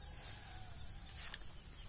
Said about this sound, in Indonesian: banyak jangkrik bunyi